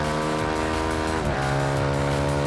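A Ducati Scrambler motorcycle races at Monza in the Ride 2 video game. Its engine drones steadily and loudly, and the pitch dips briefly at a gear shift midway through.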